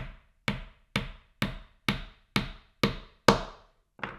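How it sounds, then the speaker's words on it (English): Nine sharp, evenly spaced taps of a hammer striking a nail into wood, each crisp knock ringing briefly before the next, close and alone. "now we can hammer it in the rest of the way"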